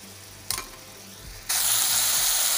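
Onion and tomato cook in a pan toward golden, first with a faint soft stirring and a brief scrape, then a loud steady sizzle that starts suddenly and keeps going.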